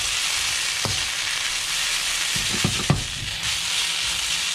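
Beef stir fry noodles sizzle steadily in a hot pan while a utensil stirs them, with a few distinct scraping clatters as the noodles are turned, close and fairly loud.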